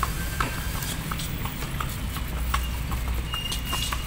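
A horse pulls a kalesa cart through Manila, its hooves clip-clopping on pavement in a steady, close rhythm over constant street rumble, with no talking.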